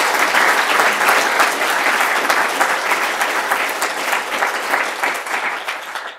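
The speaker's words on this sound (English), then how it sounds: "Hand of applause for Clint." A conference audience at a programming talk claps steadily and loudly, a dense sustained round of applause that fades out at the end.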